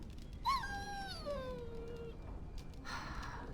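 A dog in Dragon Age: Origins lets out a single drawn-out whimpering whine that slides downward, fairly faint over a quiet background, followed by a soft breathy sound.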